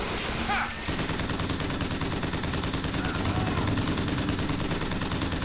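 Rapid gunfire in BioShock Infinite, a dense automatic stream of shots running steadily the whole way through after a brief opening burst, loud and close in the game mix.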